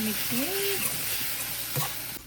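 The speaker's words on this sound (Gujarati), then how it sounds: "હવે એમાં નાખીશું લીલા મરચાં, મિક્સ." Green chillies tossed and mixed in hot sizzling oil for street-style vada pav filling, a steady close frying hiss with stirring scrapes, a brief tonal whistle-like sound early on.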